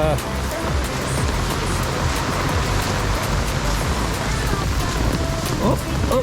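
Rain falls steadily during Cyclone Alfred in wet bushland near a flooded creek with a fallen tree, a dense continuous wash of drops on leaves and ground, fairly close, with a voice briefly speaking at times.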